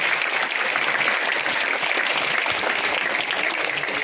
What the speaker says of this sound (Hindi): और आप बच्चे ताली बजाओ।